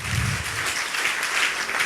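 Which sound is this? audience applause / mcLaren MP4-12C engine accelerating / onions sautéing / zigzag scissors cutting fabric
audience applause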